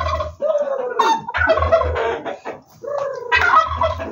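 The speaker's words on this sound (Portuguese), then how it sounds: "Cada galinha é bonita," Poultry at a country property in Bofete, in rural São Paulo state, keep up a steady stream of gobbling and clucking, loud and close. The calls come in repeated bursts with short gaps between them, and no talk is heard over them.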